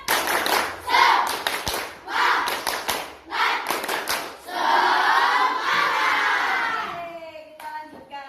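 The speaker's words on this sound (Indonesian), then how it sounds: "Tepuk semangat." A classroom of children performs a rhythmic spirit-clap chant, sharp clap bursts in patterned groups alternating with loud shouted chanting voices, ending in a sustained group call.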